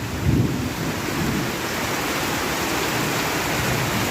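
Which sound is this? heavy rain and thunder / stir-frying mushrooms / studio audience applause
heavy rain and thunder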